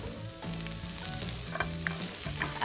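Cauliflower frying in a skillet, a continuous close sizzle with crackling pops and faint stirring scrapes, with no talk.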